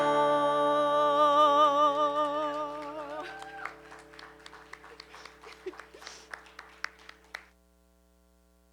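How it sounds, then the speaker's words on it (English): A church congregation claps along to the final bars of a song, with a few scattered hand claps over a sustained chord that fades, then stops into silence. "thank you so much for clapping"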